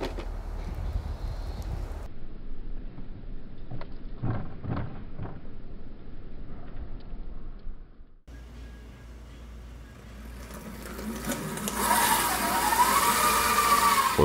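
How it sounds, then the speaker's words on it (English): Sensored and sensorless brushless scooter motors spin up one after the other, giving short whirring bursts, a low motor hum and then a rising whine that sweeps upward, heard close with no talk. "The main difference between the two is that sensored motors start spinning more smoothly."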